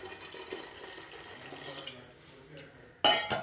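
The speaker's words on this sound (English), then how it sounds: "So I'm pouring water." Water pours into a pot of South Indian dry silver fish curry, a steady splashing trickle that ends in a louder burst of sloshing.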